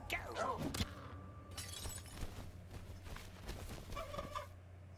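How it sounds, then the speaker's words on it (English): In the Gollum video game, a bird creature lets out a brief turkey-like gobbling call among clattering game effects and a low hum. "Is that a turkey noise?"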